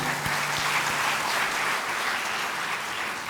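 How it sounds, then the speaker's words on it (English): Steady applause from an audience at an institute's foundation day celebration, a dense even wash of clapping that holds for a few seconds with a brief low hum at the start. "You join with me with a big round of applause for the icing on the cake"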